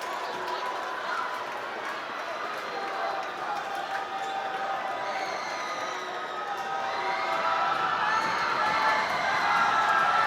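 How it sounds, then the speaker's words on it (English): A packed gym crowd at a boys high school basketball game at the Pine Belt roars steadily and loudly, swelling near the end with shouts and cheering, as a voice speaks beneath the din. "Crowd going wild here at the Pine Belt."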